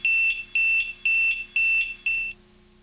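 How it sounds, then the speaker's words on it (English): A Rollins System VI emergency medical alarm sounds a piercing electronic beep five times in an even on-off rhythm, each tone about half a second, then stops, leaving quiet. "The emergency medical alarm is a low volume on-off beeping."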